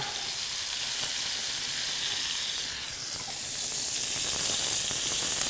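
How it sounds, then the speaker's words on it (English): Onion sweats in a hot pan alongside browned rabbit for a rabbit and seafood paella, giving a steady, soft sizzle and hiss that swells slightly toward the end. "Gonna add our onion to sweat that down"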